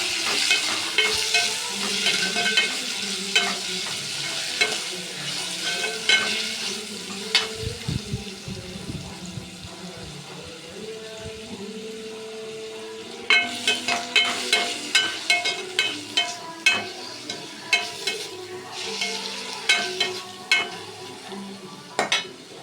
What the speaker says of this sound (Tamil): இஞ்சி பூண்டு சாந்து போட்டு நல்லா வதக்கிக்கலாம்.